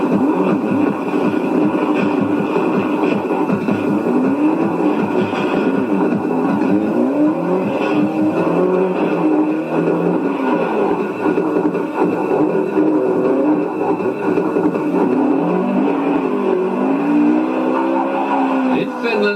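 Rally car driven hard on a stage, its engine howling and rising and falling through gear changes with tyre squeal and skids, loud and close throughout, with faint voices in the background.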